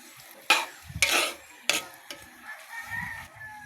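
Potatoes cut into long fry-style strips are stirred in a pan, giving a few sharp scraping strokes over a soft sizzle with no voices.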